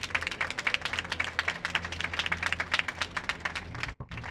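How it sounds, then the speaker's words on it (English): A crowd at a fountain reopening gives a round of applause for an alderman, steady dense clapping for about four seconds before it abruptly cuts off. "Everyone give Alderman Brendan Riley a round of applause."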